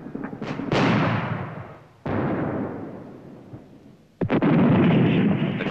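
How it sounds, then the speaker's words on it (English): Australian artillery guns firing during the Vietnam War, three heavy booming blasts spaced about two seconds apart, each rolling off into a long fading rumble. "Once down, the guns are soon in action, responding to target information passed on by signalers in the battalion command post."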